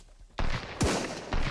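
Three heavy gunshots fired in quick succession in the survival shooter game Sunkenland, each a loud close crack with a booming, echoing tail.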